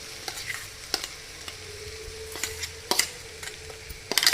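Ground soya chunks (meal maker) frying with masala in oil, a steady low sizzle under repeated scrapes and stirs of a spatula in the pan, close and fairly loud, with no talk.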